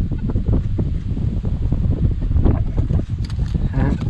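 Steady low rumbling wind buffeting the microphone outdoors during metal detecting, loud and continuous, with faint rustling on top.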